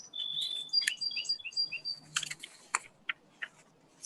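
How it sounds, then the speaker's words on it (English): Loud birds chirp and tweet in quick, bright bursts, with a few sharp clicky calls scattered between them, close to the microphone and heard alone without any voices. "Someone's got some loud birds at their house."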